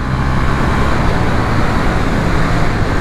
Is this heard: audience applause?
no